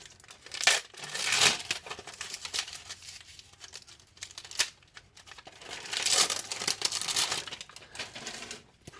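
Crinkly plastic wrap being pulled and torn off a heavy 4.5 kg spool of 0.8 mm welding wire for a BossWeld MST185 welder, coming in two busy bursts of rustling and crackling with quieter handling between.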